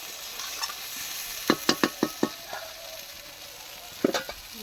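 Bottle gourd with prawns frying in oil is stirred in a pan, with a steady sizzle and a run of sharp spatula scrapes in quick succession, then a few more near the end.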